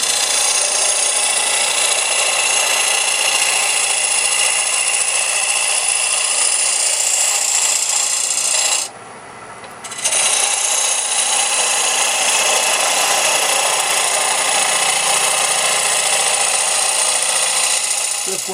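A power tool cuts a finger hole into a wooden lathe headstock handwheel, a loud, close, harsh grinding rasp that runs continuously, pauses for about a second midway, then resumes.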